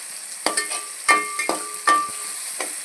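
Tomatoes sautéing in a pan for okra tamarind curry sizzle steadily while a spatula scrapes and taps the pan in about six distinct strokes, close and clear with no talk.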